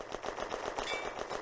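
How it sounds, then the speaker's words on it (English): Autocannon fire from up the road in a World War II Eastern Front war game, a rapid rattling burst of repeated shots, fairly faint and distant, continuous over the brief moment. "Autocannon fire from up the road."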